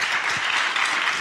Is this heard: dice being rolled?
no